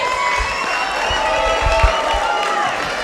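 A wrestling crowd at the IHW Mayhem show cheers and roars steadily for a debuting wrestler, a dense continuous wash of voices with a few louder thumps and swells, close and loud throughout.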